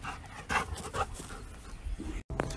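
A dog pants close by in quick breathy bursts with uneven rhythm, pausing briefly near the end before carrying on.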